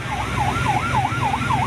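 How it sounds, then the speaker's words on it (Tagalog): A loud wailing siren from a Chinese coast guard ship at sea, rising and falling in a regular rapid cycle about three times per second, steady over a low engine-like rumble. "maririnig ang malakas na pagpapatunog ng wangwang o sirena mula sa barko ng China"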